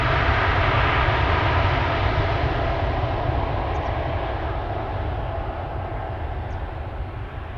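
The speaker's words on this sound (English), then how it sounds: "It's the 787-10 Dreamliner to Mumbai. Here it comes" A Boeing 787-10 Dreamliner bound for Mumbai departs from Amsterdam Schiphol, its engines a loud, steady broadband roar that holds throughout and eases only slightly toward the end.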